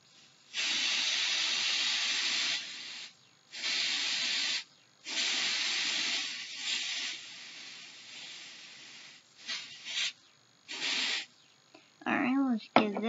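Repeated short bursts of hissing spray from a professional nail dryer, each lasting a second or two with pauses between, ending with a few quicker puffs and brief talk.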